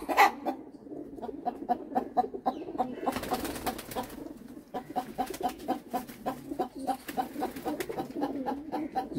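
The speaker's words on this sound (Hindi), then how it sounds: "जिसमें 30 से 35 कबूतर" A flock of some 30 to 35 high-flying pigeons kept for sale coos and calls in a steady stream of short repeated notes, fairly close and with no voices.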